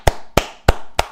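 Four sharp, loud hand claps sound close by at an even, slow pace, each one a single crisp smack with a short ring after it.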